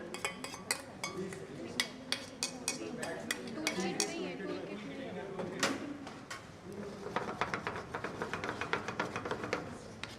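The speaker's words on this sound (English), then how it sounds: "We have a whisk here." A metal whisk clinks and scrapes against a pan of hot cream and cream cheese during a chef's cooking master class, with quick repeated taps in steady bursts over kitchen background noise.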